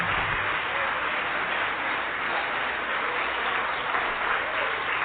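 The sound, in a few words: congregation applauding in church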